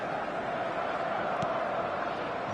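Stadium crowd noise from the football video game eFootball: a steady, dense roar of a large crowd holds at an even level throughout, with no commentary over it.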